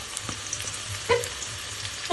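Steady sizzling of potatoes and onions frying in oil, with a few stirring scrapes and clinks; close and continuous.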